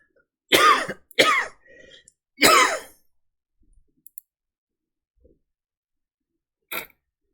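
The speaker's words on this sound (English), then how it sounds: "And I'm about to cough." A few sharp coughs in quick succession, close and loud, followed by quiet gaps with small clicks and one more short cough near the end.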